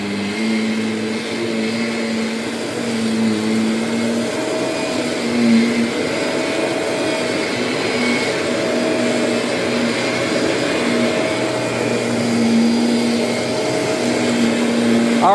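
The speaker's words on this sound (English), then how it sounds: "We may have a new vacuum cleaner king." A Kirby Ultimate G Diamond Edition vacuum cleaner runs steadily and loudly throughout, a constant motor whine with a smooth droning hum and no talking.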